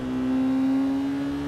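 A car engine held above 6,000 RPM on a race track gives a loud, steady high-revving drone with a clear, unwavering pitch, sustained without voices.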